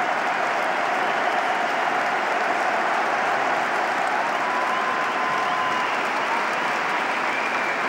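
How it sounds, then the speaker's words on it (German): A stadium crowd at a Rapid versus SCR Altach football match applauds Louis Schaub in a dense, steady wash of clapping that holds loud and unbroken throughout. "Verschafft Louis Schaub seinen verdienten Applaus."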